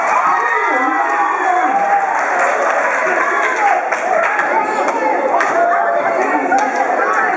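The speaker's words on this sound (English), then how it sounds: "Give them a round of applause." An audience at an engineering game show in San Jose claps and cheers loudly and steadily, with some crowd chatter mixed in.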